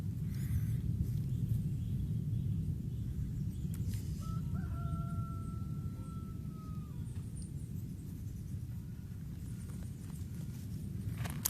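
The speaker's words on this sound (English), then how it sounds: "the cocks start crowing in the area" Roosters crowing in a neighbourhood during a volcanic ash cloud event, a single drawn-out call in the middle against a steady broadband rumble of background noise, moderately distant.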